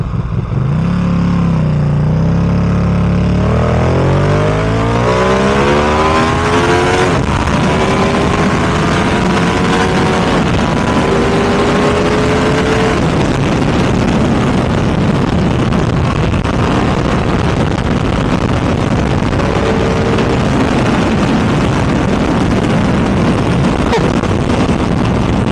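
A Ducati SF V2 motorcycle launches hard in first gear, its engine revving loudly and rising steeply in pitch through repeated upshifts, very close and overwhelming with wind buffeting, no talk over it.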